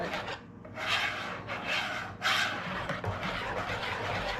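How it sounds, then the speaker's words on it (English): A hand whisk scrapes and swishes through pumpkin pie filling in a bowl, giving uneven rubbing bursts up close with no voices. "Mix this up real good. Just whisk it."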